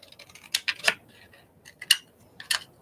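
Scissors snip through paper in a few short, crisp cuts spaced irregularly across a couple of seconds, close by and fairly quiet, with no one talking.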